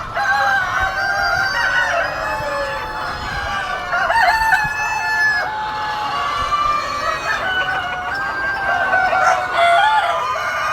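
Parent stock chickens on a farm, 24 weeks old, clucking in a dense flock while roosters crow repeatedly, loud and close, with no one talking.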